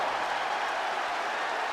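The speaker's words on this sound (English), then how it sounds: "Crowd appreciating this contest." Crowd applause in a WWE 2K20 SmackDown wrestling match, a steady, dense wash of clapping and cheering held at even loudness throughout, with no voices standing out.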